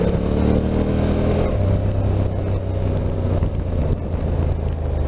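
A Honda NT1100 motorcycle engine revs up and holds steady in gear, a loud, continuous drone whose pitch climbs and then settles into a sustained tone, close by and alone.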